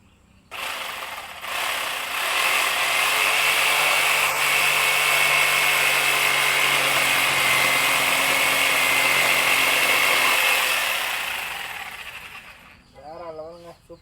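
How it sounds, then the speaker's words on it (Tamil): A machine saw cuts through a thick sheet of plywood with a loud, steady, gritty buzzing whine that runs for about ten seconds and then fades. A short voice follows at the end. "ஒரு கனமான பிளேவுட் வந்து எடுத்து வச்சுருக்கேன் இப்போ இதை வந்து கட் பண்ணதான் என்னென்னு பார்ப்போம்"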